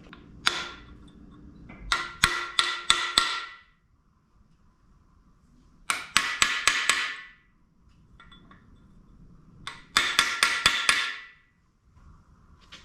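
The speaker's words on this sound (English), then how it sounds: "I like to stake these with a chisel just to make sure they don't back out" A hammer strikes a chisel to stake galley plugs in an engine block, giving three close bursts of sharp metallic taps, each four to six quick ringing blows, separated by quiet pauses.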